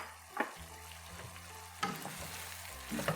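Chicken and potato pieces fry in a pan for achari rice, a soft steady sizzle broken by a few sharp stirring scrapes from a spoon against the pan, with no talking.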